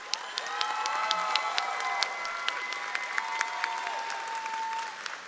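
Graduation crowd at a high school ceremony applauding retiring teachers, a sustained broad burst of clapping with scattered whoops and cheers, fairly distant and even throughout.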